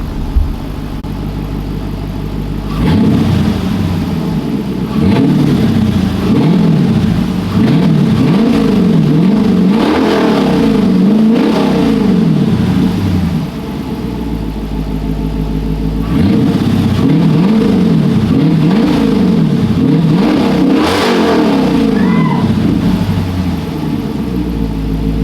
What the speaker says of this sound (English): I'm gonna give y'all a few revs